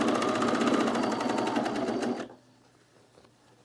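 A sewing machine runs a fast, even stitch through fabric for a pleated color-block top with piping, a loud close rattle for about two seconds that then stops abruptly, leaving quiet.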